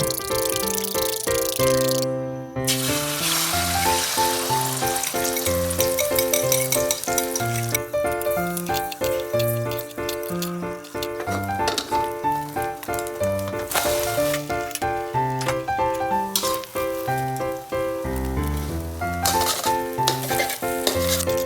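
A Thai water omelette (khai jiao nam) frying in a pan gives a steady, close sizzle throughout, partly masked by prominent background music with clear melodic notes.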